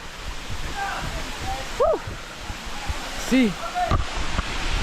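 Katiki waterfall in Araku pours as a steady broadband rush of water, with people's voices rising briefly over it several times.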